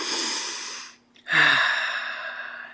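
A slow, deep breath: a long airy inhale, a brief pause, then a strong, close exhale that trails off over nearly three seconds, with no talking.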